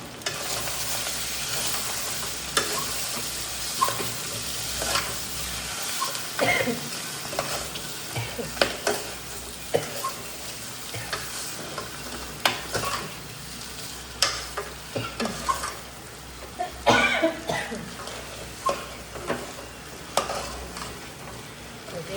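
Potatoes fry in a pan with mustard seeds, a constant close sizzle broken by repeated scraping stirs and utensil knocks at uneven intervals across the whole stretch.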